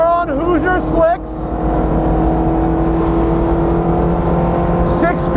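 A 2002 Mustang Cobra Grand Am race car on slick tires runs on a track, its engine note a steady loud drone with shifting pitch, rising near the end, while a voice talks over it at the start.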